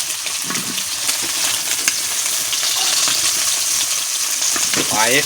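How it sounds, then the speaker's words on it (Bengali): Small fish frying in oil sizzle steadily and fairly loudly through the whole stretch, with light crackles and a brief stirring scrape near the end. "খুব সুন্দর করে আমি মাছগুলো ভাজা করে নিয়েছি"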